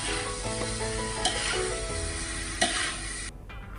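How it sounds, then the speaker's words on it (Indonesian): Spice paste with sugar sizzles steadily in a pot as it is stirred, the frying hiss continuous with a few scraping clinks of the utensil before cutting off. "Kemudian kita aduk-aduk kembali sampai gula pasir mencair dan menyatu dengan semua bumbu tumisan tersebut"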